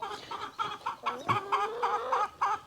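A hen clucks repeatedly in a steady series of short, close clucks, with a drawn-out note midway.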